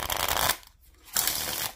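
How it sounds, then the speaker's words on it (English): Riffle shuffle of a vintage-feel Jerry's Nugget deck of playing cards: two close bursts of fluttering card riffles separated by a brief pause, with no talk. "that's kind of what this Riffle Shuffle feels like"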